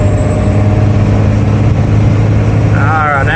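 A Cummins diesel tow rig pulling a skid steer cruises in fifth gear, its engine droning loud and steady from inside the cab, with a faint rising whistle near the end.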